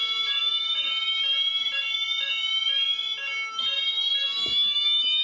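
Fire alarm horn blaring during a system test of an X10 fire alarm setup, a loud repeating electronic tone pulsing in steady beats, heard close and alone.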